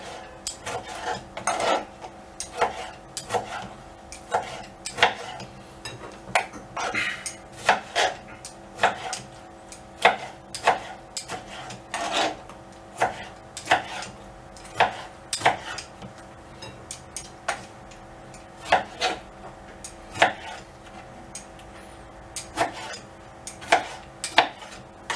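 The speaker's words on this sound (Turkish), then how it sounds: "4 tane domatesimi doğradım. Bunları da küp küp yapıyoruz arkadaşlar." Tomatoes being diced into cubes with a knife on a cutting board, sharp irregular chops repeating steadily, close and clear with no talking.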